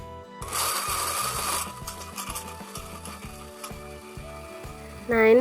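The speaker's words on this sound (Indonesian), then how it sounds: "di sini saya memblendernya pakai air" A kitchen blender grinds chopped beef liver with water, a dense whirring roar at the start that settles into a steady, rhythmically pulsing mechanical grind close by.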